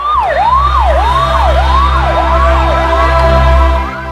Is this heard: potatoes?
no